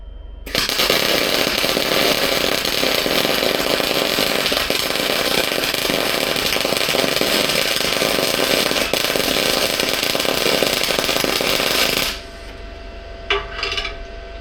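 Arc welding runs as one long, loud, steady crackling hiss for about twelve seconds, then stops abruptly, leaving a few faint clicks and taps.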